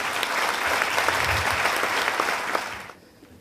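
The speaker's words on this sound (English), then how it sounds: "A round of applause for them." An audience gives a round of applause for the project team at an event, loud and dense clapping from many hands that fades out near the end.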